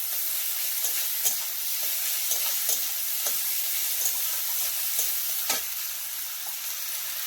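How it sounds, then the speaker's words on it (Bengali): Onion fries in a pan for an egg and pointed gourd curry, a steady sizzle with intermittent scraping knocks as it is stirred, no voices. "এবারে একটু লাল লাল করে ভেজে নেবো পেঁয়াজটা।"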